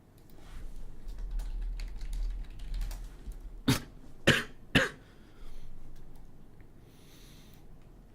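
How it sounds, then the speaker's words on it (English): Three sharp coughs come in quick succession over soft keyboard typing and a low background hum. "I wonder how long this cough is going to just linger."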